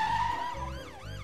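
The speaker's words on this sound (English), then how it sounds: "It's Police Officer Panda in his police car coming to see if everyone's okay." A police car siren in a Peppa Pig cartoon wails with rising and falling sweeps, heard clearly and alone over a low background hum.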